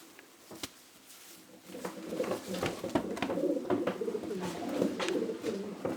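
Male Janssen racing pigeon cooing in a loft, a soft, repeated low murmur that starts faintly and builds into steady cooing, with occasional light taps and wing flutters.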